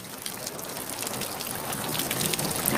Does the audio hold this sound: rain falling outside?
yes